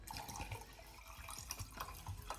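Hot liquid trickles and splashes quietly into a container in a short, faint, continuous pour with small drips.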